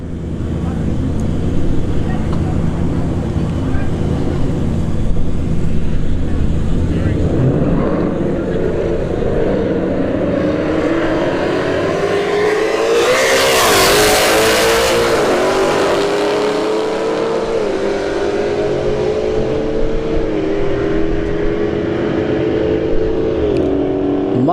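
A drag race at Bradenton Motorsports Park pits a Dodge Charger Scat Pack against a Ford Mustang: a loud engine roar builds and sweeps past at full throttle, then a long, steady drone fades down the strip.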